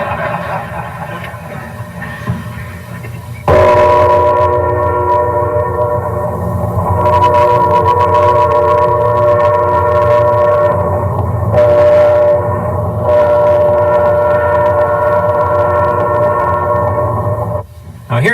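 Loud, sustained multi-tone airchime horn of a Pacific Great Eastern Railway train in Canada, blowing in long steady blasts with short breaks, heard close over rumbling train noise.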